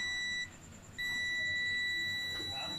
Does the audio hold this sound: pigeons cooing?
no